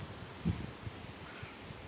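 Cricket chirping outdoors near a fishing spot as a storm approaches, faint repeated high chirps in a steady rhythm over wind and low background rumble.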